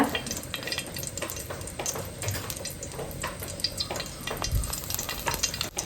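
Cumin seeds crackle and sizzle in hot ghee and oil for an egg biryani, a busy close-up frying hiss with irregular pops and stirring scrapes, no voices over it.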